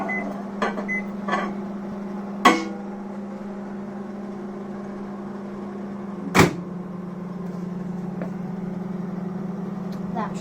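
A microwave oven runs steadily while butter melts for a quick chocolate-chip cookie, giving a constant low hum broken by two sharp knocks or clicks, with a few faint taps near the start.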